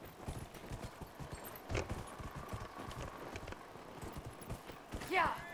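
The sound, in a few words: horse hooves clip-clopping in the video game Dragon Age: Inquisition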